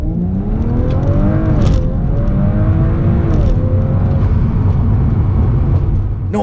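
Stage 1 Audi S4 quattro launching and accelerating hard from 0 to 60, its engine note climbing steadily through the gears with brief shift dips, loud and close from inside the cabin, with no talk.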